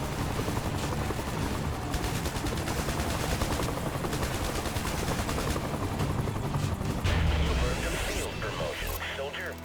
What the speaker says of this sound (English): Now I can call in the helicopter, and that'll do a lot of the work there for us.